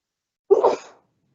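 A single loud, close sneeze sounds once in a quiet room during a parole board hearing, short and breathy with a quick fade.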